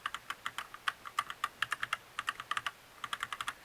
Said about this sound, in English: The brown switch is supposed to offer the same mechanical feel as the blue without the loud click noise.